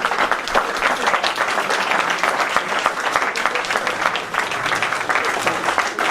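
An audience at a book event for a novel applauds after a reading, a dense, steady wash of many hands clapping at an even level throughout, with no clear speech over it.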